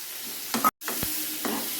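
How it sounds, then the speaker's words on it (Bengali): Potato, brinjal and tomato frying with salt, turmeric and chilli powder, stirred in a pan: a close sizzle broken by several scraping stirs and one brief sharp gap, with no talking. "এটা ভালো করে সবজিটা আমি একটু ভাজা ভাজা মতো করে করে নেব"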